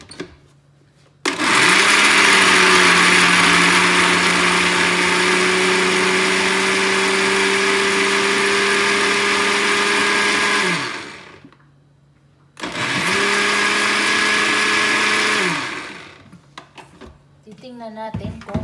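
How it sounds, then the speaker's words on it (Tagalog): An electric blender whirs loudly as it purees chickpeas for Arabic hummus, running in a long steady burst, stopping, then starting again for a shorter second run. "Ayan, ibiblender na natin."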